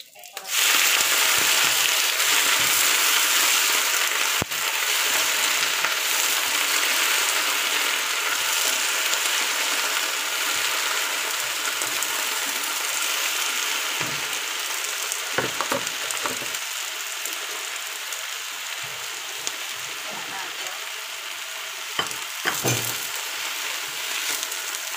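Garlic sizzles steadily in hot oil in a pan, a continuous close crackling hiss with occasional utensil scrapes, while a voice speaks quietly now and then.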